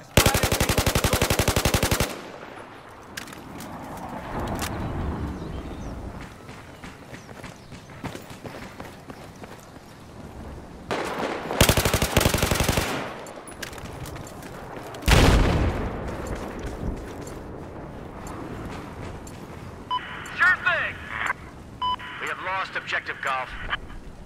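Sustained machine gun fire rattles through a Battlefield 4 firefight, loud bursts in the opening seconds and again near the middle, with scattered shots, footsteps and radio chatter in between.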